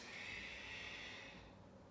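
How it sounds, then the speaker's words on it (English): Steady, soft breathing from a person holding a yoga lunge, a quiet airy exhale that fades slightly toward the end, heard alone and close. "Take a couple extra breaths there. Just breathing into your lunge."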